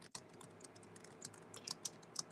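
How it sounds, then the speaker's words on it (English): Rapid typing on a computer keyboard, a quick irregular run of light clicks and taps close to the microphone, with no talking. "Sorry about if you hear my typing."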